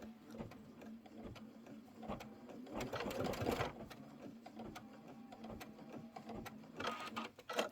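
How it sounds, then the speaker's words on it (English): An embroidery machine stitching a placement line for a boot strap runs in quick rhythmic mechanical clatter, fairly quiet and close, with small bursts of louder rattling and no speech. "I'm just going to hit start, and it's going to do the placement stitch for my strap."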